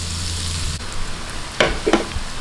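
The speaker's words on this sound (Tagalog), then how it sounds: "Itong pong sibuyas, talaga pong ating gigisahin-gisang-gisa." Chopped onions sauté in a pan for Batangas-style kaldereta, giving a steady close hiss and crackle, with two brief utensil knocks toward the end.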